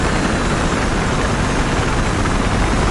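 Helicopter climbing in Battlefield Hardline, a loud continuous roar of rotor and engine noise filling the whole clip with no breaks.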